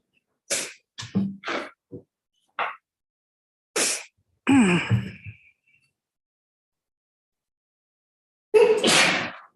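In a murder trial courtroom, someone lets out a sharp sneeze after a few short scattered sounds, followed by a pause and then a louder burst near the end.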